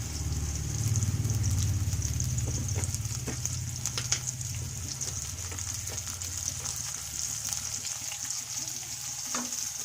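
Chunks of potato frying in a pan as the start of a vegetarian cabbage dish, a continuous bright sizzle with a low rumble early on and scattered clicks of stirring throughout.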